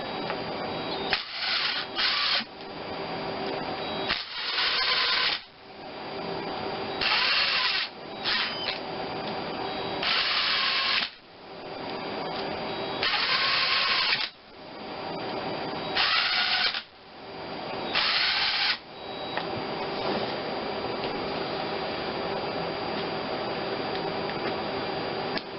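Power tool, likely an impact driver or drill, running down bolts on a Geo Metro G10 three-cylinder engine during a rebuild: repeated loud bursts of whirring, several seconds each, separated by short pauses, close up with no talk.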